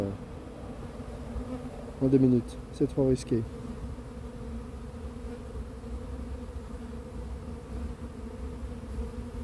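Honeybee swarm dropped in a clump at the base of a hive, giving a steady low buzzing hum throughout, close by, with someone speaking briefly over it early on.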